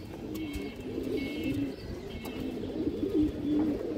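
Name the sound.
pigeon cooing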